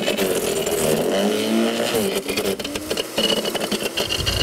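Daewoo DSR 2700E electric garden branch shredder switching on, its motor whirring loudly and steadily with a fluctuating, rattly mechanical drone throughout.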